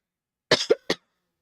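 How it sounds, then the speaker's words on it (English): A person coughs three times in quick succession, close and fairly loud, the second cough harsher, then silence. "Sorry, I'm fighting a cough."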